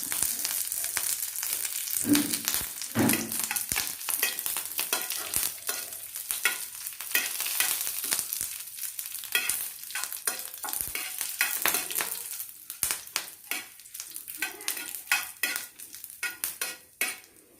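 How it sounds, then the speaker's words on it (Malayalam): Mustard seeds, dried red chilies and curry leaves crackle and sizzle in hot oil for a buttermilk curry: a close, steady frying hiss with scattered pops and stirring clinks, no talk. "ഇനി ഉണക്കമുളകും കറിവേപ്പിലയും കൂടി ഇട്ട് താളിച്ചൊഴിക്കാം"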